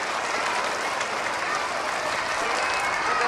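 An audience at a community ceremony in Prey Veng, Cambodia, applauds in a dense, steady wash of clapping that holds at an even loudness throughout.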